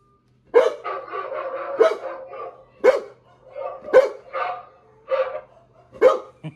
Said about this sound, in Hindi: ये देखो गाइस सारे कुत्ते।